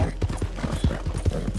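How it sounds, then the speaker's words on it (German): A horse gallops in Red Dead Redemption 2, rapid rhythmic hoofbeats thudding loud and close in a steady clip-clop pattern. "Doch, jetzt geht das Pferd ab."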